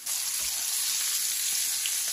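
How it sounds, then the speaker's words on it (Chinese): Flour-dusted hairtail fish deep-frying in hot oil, a steady loud crackling sizzle that holds evenly throughout, close to the pan with no talking. "七成油温下锅炸，这个时候一定要小心点"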